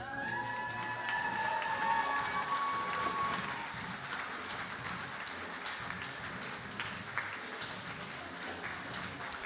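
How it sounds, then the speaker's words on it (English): A standing audience at a Bury College graduation ceremony applauds its graduates, a continuous wash of clapping that is moderately loud and steady, with a faint tonal sound early on. "please remain standing and applaud your graduates"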